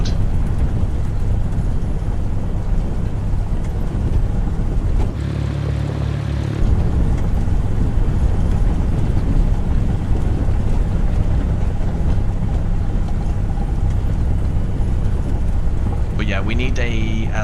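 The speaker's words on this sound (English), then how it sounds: "Listen to the clicking of the engine. The chug, chug." A Cessna's piston engine in Microsoft Flight Simulator 2024 chugs steadily and loudly under a low, constant drone, with a brief deeper change partway through and some faint clicking texture near the end.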